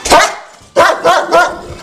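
Dogs at a dog hotel bark loudly and close, first one sharp bark and then a quick run of three, with no speech over them.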